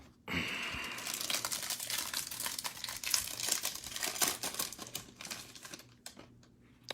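A foil wrapper on a 2020 Bowman baseball card pack crinkles and tears close up, with rapid irregular crackles, loud bursts in the middle, then a few trailing rustles.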